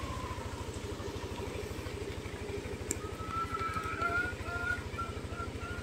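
A Yamaha Aerox 155 scooter engine runs steadily near the mic, a fast low pulsing idle that rises slightly as it is revved, with a faint whine above and rain-like hiss throughout.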